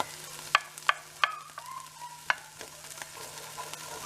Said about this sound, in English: So now that it's been sauteed for a while, I'm going to add the garlic.